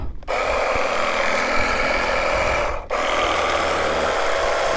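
A portable battery-powered water wash gun sprays a Duke 250 gen 3 motorcycle, giving a steady, close hiss with a constant motor hum that breaks off briefly and then carries on.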